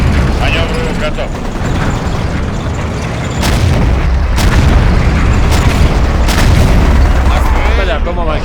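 Artillery fire in the World War II strategy game Blitzkrieg, a dense rolling barrage of booms over a constant low rumble, with voices talking over the shelling.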